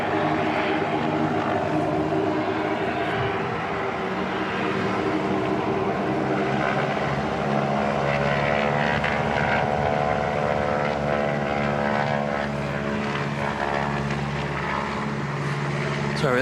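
An Origin propeller aircraft at Christchurch Airport runs up with a steady droning hum and layered engine harmonics, continuous and fairly strong, while people talk faintly nearby.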